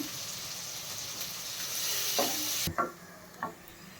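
Chopped onions fry in hot oil with a pinch of salt in a pan, for a country chicken curry. A loud, steady sizzle with stirring runs, then suddenly drops away, followed by a few sharp scrapes and clanks of a spoon against the pan.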